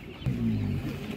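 German ducks at an animal market, a short low nasal quack from a duck close by, a single call over quiet background.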